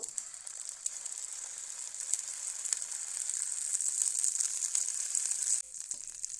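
Pea paste fries with ginger and green chilli in a pan, giving a close, steady, bright sizzle with occasional faint scraping ticks. The hiss drops abruptly just before the end.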